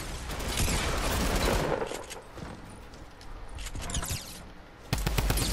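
A minigun fires in a video game as a sustained, loud stream of rapid gunfire that rises and falls, then resumes sharply near the end.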